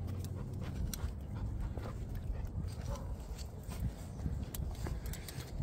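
Hungry American Presa dogs panting steadily while waiting to be fed, a continuous close breathy rhythm with occasional faint clicks and shuffling.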